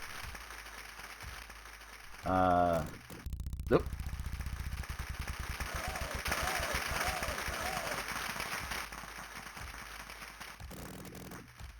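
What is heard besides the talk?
crowd applause in Wheel of Fortune 1989 Gametek video game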